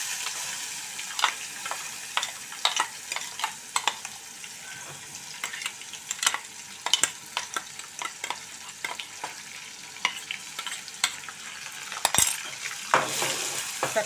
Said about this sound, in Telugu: ఇది ఈ తాలింపులో వేసేసుకొని వేయించుకుందాం